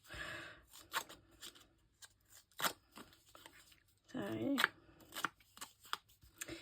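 Paper flower edges scraped and roughened with a distress tool, giving a series of short, dry rasping scrapes in uneven bursts, close up, with brief pauses between strokes and a single spoken word near the start.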